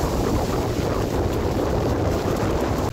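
Strong wind at a beach roars and buffets the microphone in a constant, loud rumble with no let-up.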